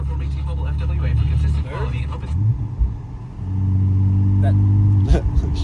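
Drift car engine rumbling and revving while driving, a steady low drone with pitch rising and falling, with voices talking over it inside the car.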